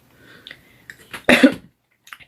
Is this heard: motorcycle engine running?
no